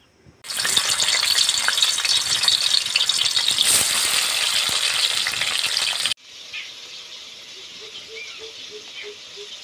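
Paneer pieces frying in hot oil in a wok, a loud, dense crackling sizzle that stops abruptly, then a fainter bubbling with light rattles.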